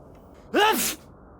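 A single sharp sneeze, a quick rising intake then a bright burst, loud and close, surrounded by near silence.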